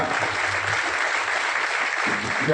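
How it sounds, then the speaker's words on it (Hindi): Audience applause, a continuous wash of clapping from a crowd at an outdoor gathering, steady and fairly loud for the whole short stretch, swelling slightly at the end. "जोरदार तालियों से जोरदार बजाते रहे कुछ देर के लिए भी सही।"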